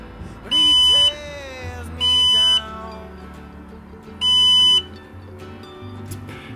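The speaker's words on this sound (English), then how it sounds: "if we hear a beep, we know that the front lights are working." Three short, shrill electronic beeps from a camper van's electrical system, confirming the front lights work, sound a second or so apart over a low background hum, with faint voices nearby.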